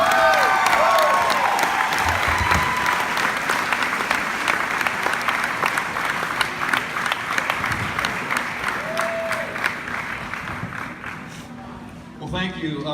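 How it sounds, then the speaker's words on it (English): A crowd applauds Dan Wilson as he takes the stage for a keynote at a college sports auction, dense sustained clapping with some cheering that tapers off near the end. "let's give a nice round of applause"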